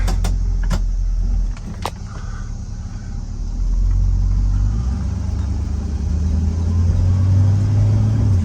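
A 1965 Chevelle Malibu Super Sport out on a drive, its engine giving a low, steady rumble from inside the cabin, with a few brief clicks and a power-window whir early on.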